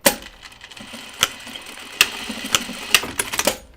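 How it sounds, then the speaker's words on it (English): A sewing machine stitches across the bottom hem of a 1940s-style dress, a close steady mechanical whir broken by several sharp ticks and clacks at irregular intervals. "I'm going to sew across the bottom here."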